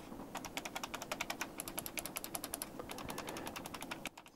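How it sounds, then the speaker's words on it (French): Mechanical switch buttons on an EasySMX X10 game controller click in a rapid, steady run of crisp, close taps, much like a keyboard being typed on, with no talking. "on est sur en fait des switches mécaniques"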